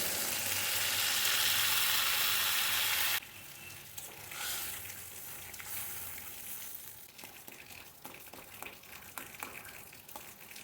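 Masala that has been cooked down in a pan hisses loudly and steadily, then abruptly drops to a softer bubbling simmer as water goes in, with scattered crackles afterward.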